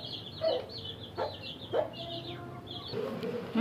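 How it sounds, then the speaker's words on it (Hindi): A young rooster on a family's home grounds gives short clucks and calls among other birds chirping, a few brief near sounds over faint background noise. "ये मुर्गा है।"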